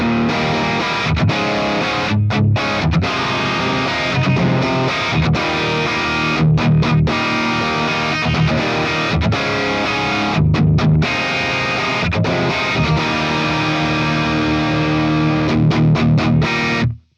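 Hard-picked electric guitar through a TONEX amp capture with a driven, distorted tone, loud and continuous with ringing sustained chords and brief rhythmic gaps, no voice.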